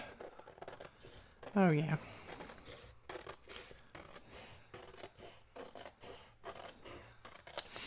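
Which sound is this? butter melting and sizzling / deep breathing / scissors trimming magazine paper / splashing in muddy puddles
scissors trimming magazine paper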